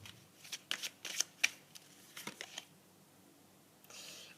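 Tarot cards being shuffled by hand, several quick riffling bursts close up in a quiet room, followed by a softer rustle at the end.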